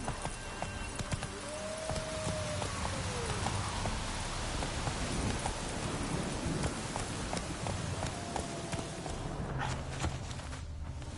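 Roach the horse gallops in The Witcher video game, with a continuous run of close hoofbeats over a steady bed of game ambience.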